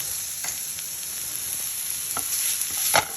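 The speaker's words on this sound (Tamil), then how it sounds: "இதுலேயே கொஞ்சம் உப்பு சேர்த்து கொஞ்சம் நல்லா வதக்கிக்கணும்" Vegetables being sautéed with salt in a pan on low heat for a kozhukattai dish produce a constant soft hiss of frying, with occasional light stirring taps near the end.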